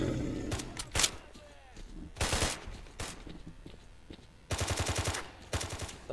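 Enemy gunfire in the S.T.A.L.K.E.R. Call of Chernobyl video game: loud bursts of automatic fire and single shots in irregular volleys, with rapid rattling runs near the end.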